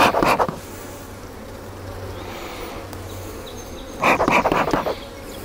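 Calm honey bees buzzing around an open scale hive while brood frames are worked, a low steady hum with louder close buzzing passes at the start and again near the end.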